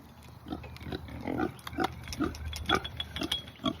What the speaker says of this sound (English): Come on, Mr. Pig.